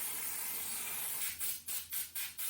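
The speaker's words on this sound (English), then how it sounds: "I spray from the back side of the coils to send the dirt and debris out the way it came in." Water and compressed air sprayed through the back of moldy dehumidifier coils, a steady hiss that breaks into four or five separate bursts toward the end, fairly quiet.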